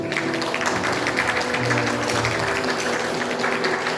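Church congregation clapping to welcome a first-time visitor at a Sunday worship service, a dense, steady wash of applause filling the room for several seconds.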